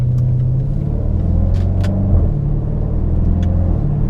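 A 2017 Range Rover SVR cruises along with a deep, steady engine drone and road rumble, smooth and unbroken inside the well-insulated cabin.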